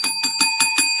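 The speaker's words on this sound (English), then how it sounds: "Where's the bell to ring?" A small bell is struck five times in a quick, even rhythm, each ring bright and ringing out clearly, to mark a giveaway winner at a spring panfish fishing league championship.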